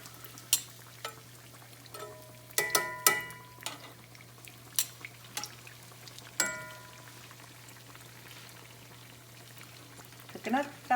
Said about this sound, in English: Puffing up them beignets.